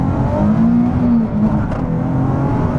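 A Nissan 370Z held at about 3000 rpm in first gear, a loud, close engine drone with a rising and wavering tone, steady throughout with no talk.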